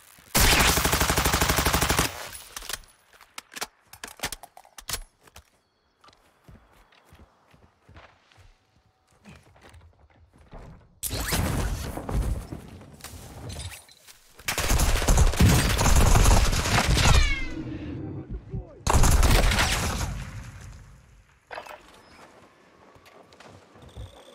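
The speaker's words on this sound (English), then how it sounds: "I'm taking fire!" Gunfire in the Call of Duty: Modern Warfare II Warzone 2.0 battle royale game, loud bursts of shots arriving in several clustered volleys with quieter stretches of movement and faint ambient noise between them.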